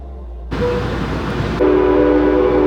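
An Amtrak train at Emeryville station rumbling close by, a loud steady roar that swells abruptly and then settles into a sustained droning tone, with no talking.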